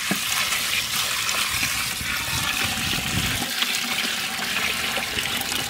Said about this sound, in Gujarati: આપણે ઉમેરી દઈએ પાણી એની અંદર.